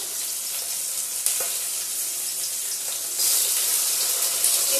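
An egg fries with onion in a hot pan, giving a steady, close hiss of sizzling that grows slightly louder in the last couple of seconds, with no voices.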